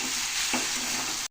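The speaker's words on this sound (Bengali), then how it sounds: "চলো নাড়িয়ে নিই একটুখানি।" Cumin, coriander and chili powder frying in a pan for a Mayurala fish curry are stirred with a steady scraping sizzle, close and continuous, with no voices.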